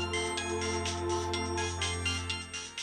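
An electronic phone ringtone plays at steady volume for a few seconds in a home, a bright repeating melodic tone with no one speaking over it.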